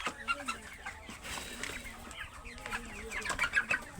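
Sonali hybrid chickens, 47 days old, cluck and chatter repeatedly at close range, with a voice talking now and then in the background.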